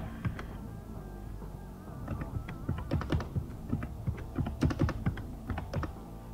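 Computer keyboard typing in bursts of irregular, closely spaced keystrokes with short pauses, entering values into image-editing software, heard close and alone with a low background hum.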